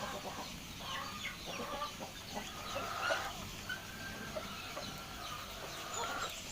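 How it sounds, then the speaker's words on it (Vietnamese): Hens clucking outdoors on a high-altitude Hmong farm, several birds giving repeated short clucks at moderate distance with faint ambient background. "gà mái kìa."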